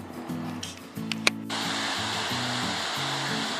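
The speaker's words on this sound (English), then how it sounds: "Another beautiful waterfall on our way to Trail Rider." A waterfall beside a mountain trail in Colorado gives a constant broadband rush that swells in loudly partway through, heard close, with low humming tones underneath.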